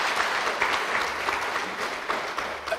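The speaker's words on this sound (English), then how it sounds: "Another big round of applause for our Vice-Chancellor," A big round of applause for a university Vice-Chancellor at an excellence awards ceremony: dense, steady clapping from a large audience fills the room without a break.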